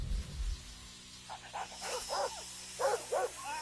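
Dogs bark in an action movie scene, several short sharp barks and yelps in quick succession after a low rumble at the start, moderately loud within the film soundtrack.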